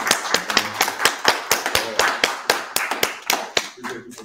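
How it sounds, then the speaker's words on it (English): A small audience at an Oakland, California community meetup gives a round of applause: distinct, sharp hand claps in an uneven rhythm, close and fairly loud, with a voice briefly at the end. "why don't we give the brother a round of applause?"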